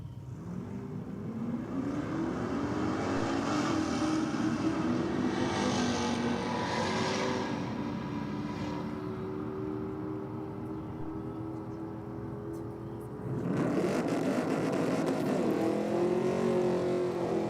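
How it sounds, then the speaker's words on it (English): Drag race between a Mercedes and a 1957 Chevrolet at a car show, loud engines revving steadily down the strip, then a second burst of louder engine roar near the end. "next up, we'll have the Mercedes taking on the 57 Chev"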